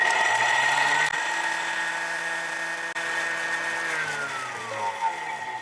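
A food processor grates lemon at speed 10 for about ten seconds, a steady high-pitched motor whine with a pitch that shifts slightly partway through, loud and close.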